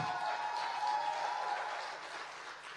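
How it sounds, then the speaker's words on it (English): A conference audience at a Bitcoin event breaks into applause, a dense wash of clapping that holds steady and then slowly fades toward the end, with no voices over it. "That deserves a round of applause."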